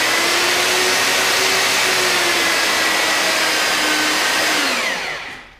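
Princess Auto portable electric pipe threader running, a loud steady motor whine with a broad whirring hiss that holds evenly, then dips in pitch and fades as it spins down at the end.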